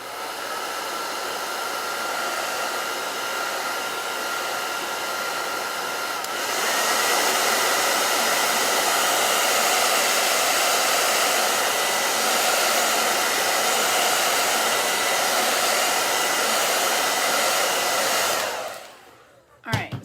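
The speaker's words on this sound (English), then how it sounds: "I'm gonna blow dry it." Hair dryer blowing steadily on the paint of a pumpkin shelf sitter, a loud continuous whoosh that grows stronger partway through, then shuts off with a brief clunk at the end; no talking.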